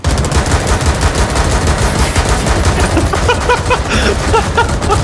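Video game gunfire: dense, loud, continuous rapid automatic shots with bursts overlapping throughout, close and unbroken, with faint voices underneath in the second half.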